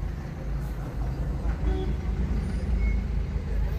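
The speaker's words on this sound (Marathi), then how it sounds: "हे नावऱ्यामध्ये बघा फार ट्रॅफिक जाम झालंय" A road traffic jam with trucks and buses gives a steady low engine rumble and roadway drone, close and continuous, with faint brief tones and hiss over the idling.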